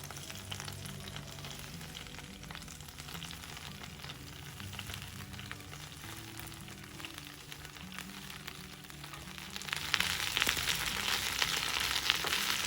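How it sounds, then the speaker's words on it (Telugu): Mint leaves frying with green chillies in a pan, a continuous soft sizzle that swells louder and brighter toward the end as stirring goes on. "ఈ పుదీనా ఆకుల్ని దీనిలో వేసి వేయించుకుందాం"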